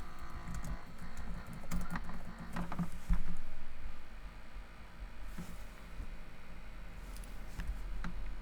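Typing on a computer keyboard while searching for Bank of America credit cards, a steady patter of soft key clicks with a few sharper taps over low background hum, close and fairly quiet.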